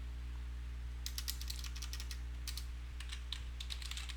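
Keys tapped on a computer keyboard while an Excel formula is entered, coming in quick irregular bursts with short pauses between them, close and fairly quiet over a steady low hum.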